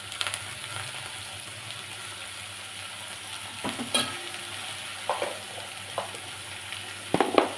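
Capsicum curry with turmeric and salt is stirred in a pan, soft steady sizzling under scattered spoon scrapes and knocks, close and fairly quiet, with no talk.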